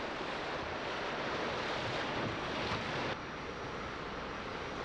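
Broad, steady rushing of high water rapids on Sugar Creek in Indiana, a dense continuous roar without breaks, close and fairly loud, with no voices.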